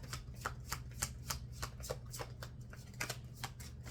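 Riffled playing cards shuffle in quick repeated bursts, a crisp fluttering rhythm close by over a low steady hum.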